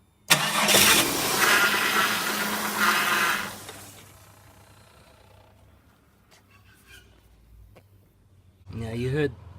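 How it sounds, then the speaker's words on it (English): A car engine cranks and starts with a loud whirring roar for a few seconds, then drops to a quieter steady idle, with a brief voice near the end. "Just start the vehicle"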